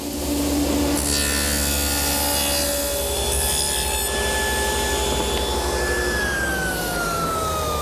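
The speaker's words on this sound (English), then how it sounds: "now I'm going to set up to make a rabbet along the back edge of each side panel" A table saw fitted with a dado head cuts a rabbet along the back edge of a plywood side panel against a sacrificial wood strip on a metal rip fence, giving a steady loud whine and rasp throughout with no talk.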